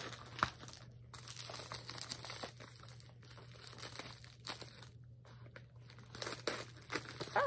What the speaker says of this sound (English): Let me cut this square up and get it out.